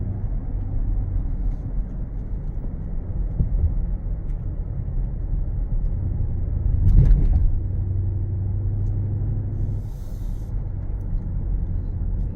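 A 2019 Mercedes-Benz GLE 63 AMG driving in Sport Plus mode, giving a steady low engine and road rumble from inside the cabin with a brief louder thump midway.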